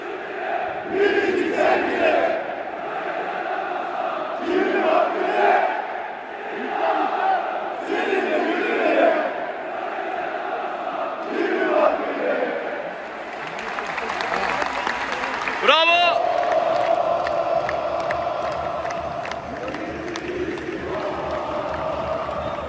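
A large Beşiktaş football crowd chants in unison at a stadium match against Gaziantep, a loud rhythmic roar rising and falling in repeated phrases, with a whistle-like swoop partway through and a continuous din behind.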